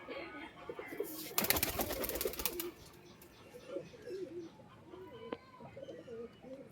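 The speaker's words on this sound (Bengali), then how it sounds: "এই যে ছেড়ে দেখিয়ে দিচ্ছি, নরপায়রা কিন্তু এটাও।" Male pigeon cooing nearby, soft rolling coos repeated over a faint background, with a brief burst of rustling or wing flutter early on and a voice murmuring faintly.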